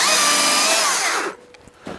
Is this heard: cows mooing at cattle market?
no